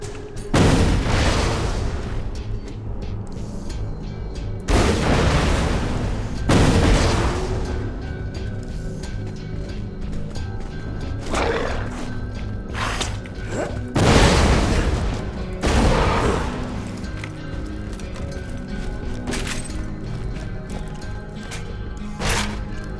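Repeated loud explosions from exploding donuts in Borderlands 2, about seven booming blasts spaced a few seconds apart, each with a sharp onset and a rumbling decay, close and prominent with no talk.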